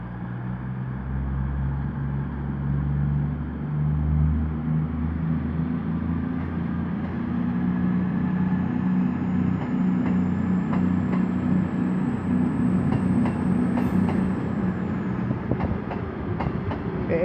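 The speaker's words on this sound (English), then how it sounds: "the next train to pull out is 221-105 off to London Euston" A Class 221 diesel unit, 221-105, departs Chester station bound for London Euston, its steady low engine rumble and rolling wheel noise building continuously under station ambience, with no talk.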